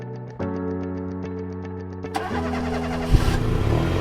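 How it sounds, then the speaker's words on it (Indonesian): A car engine starting, a steady mechanical hum that rises into revving after about two seconds and ends on a louder burst, heard alone with no voices. "Mobil"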